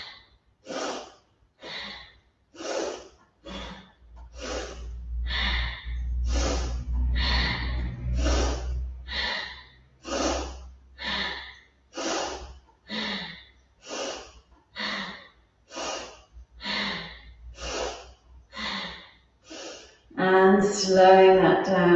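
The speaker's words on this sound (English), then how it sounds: "One way is an in-breath, the other is an exhalation." Loud, deliberate breaths drawn in and pushed out during a chair yoga session, about twenty strong breath bursts in a steady, even rhythm, close and clear, ending with a louder, noisier rush.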